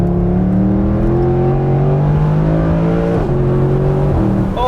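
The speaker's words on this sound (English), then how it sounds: "that's one of the great engine notes." A Mercedes-Benz SLS AMG Roadster engine drones loud and deep while the convertible is being driven. The tone is steady and sustained, with small shifts in pitch as the revs change, and there is no talk over it.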